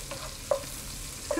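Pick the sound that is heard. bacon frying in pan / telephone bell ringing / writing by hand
bacon frying in pan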